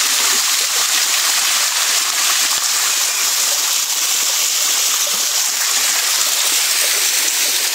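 A waterfall pours steadily with a dense, constant hiss and roar of falling water, loud and unbroken throughout with no other sounds standing out.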